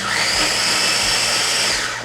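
A loud electric chopper whirs in one continuous high burst for about two seconds as it minces six garlic cloves for baked ziti.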